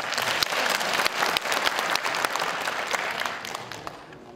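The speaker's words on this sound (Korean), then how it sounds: "박수 한번 보내시죠." Steady applause from a sizable crowd at a 2012 Gangjin County by-election candidate debate in South Korea, many hands clapping continuously at a strong level for several seconds without a break.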